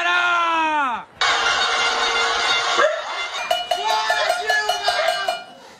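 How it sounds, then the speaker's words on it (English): Pot-banging protest crowd in Sao Paulo, a cacophony of clanging metal pans in rapid irregular strikes mixed with shouting voices and a sustained high cry, loud and dense like a noisy street gathering. "Her critics had organized a kind of pot-banging protest"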